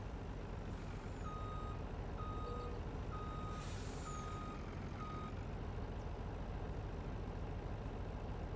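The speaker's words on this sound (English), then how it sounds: "Oh, now we're stuck with a truck again." A truck in Farming Simulator 19 reverses, sounding five evenly spaced electronic beeps over a loud, steady engine rumble, then the beeping stops while the engine keeps droning, with a hiss of air brakes.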